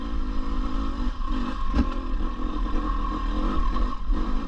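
A 2024 KTM 250 EXC two-stroke dirt bike idling as it warms up, a steady close engine drone with slight fluctuations and no rider talk.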